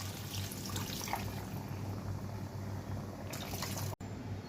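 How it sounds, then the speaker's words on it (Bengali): Water pours from a container into a pot of chana masala cooking on the stove, a continuous splashing trickle with a steady low hum underneath. "পরিমাণ মতন আমি জল দিয়ে দিলাম।"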